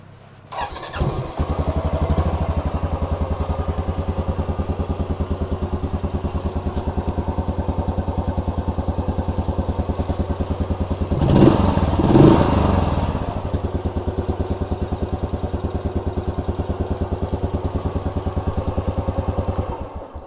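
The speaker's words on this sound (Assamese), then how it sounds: "তো বাইক লা সাউন্ড এনেকা থাকিব" A Royal Enfield motorcycle idles up close with a steady, thumping single-cylinder beat, briefly revving louder about midway before settling back to its even idle.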